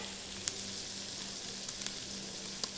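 Soup ingredients fry in a frying pan with a soft, steady sizzle and crackle, punctuated by a few sharp pops and faint utensil taps, heard alone and fairly quiet.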